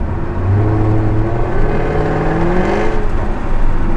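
Jaguar F-Type R exhaust with the baffles opened, a loud close-up engine blip and rev that rises in pitch, holds a throaty drone, then settles, with no talking over it.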